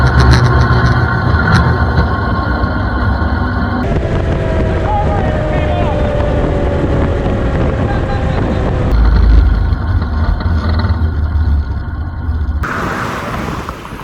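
A boat's outboard engine, repaired with JB Weld, runs under throttle with a loud, steady drone. Wind buffets the microphone and people talk over the engine.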